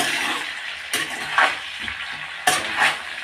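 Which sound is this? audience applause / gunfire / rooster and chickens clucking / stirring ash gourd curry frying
stirring ash gourd curry frying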